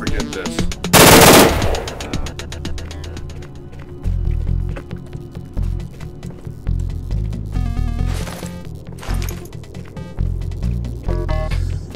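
Rapid automatic gunfire in a S.T.A.L.K.E.R.-style shooter, a dense loud burst near the start followed by sporadic single shots, thuds and footsteps while fighting lunging snorks, with no talk.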